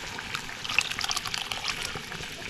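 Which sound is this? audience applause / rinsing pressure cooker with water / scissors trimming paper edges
rinsing pressure cooker with water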